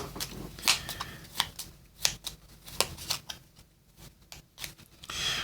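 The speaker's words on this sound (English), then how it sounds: "We need to shuffle these cards" A deck of cards being shuffled for a solo board game, heard as a quick series of sharp riffling snaps and soft rubbing strokes close up, with no talking.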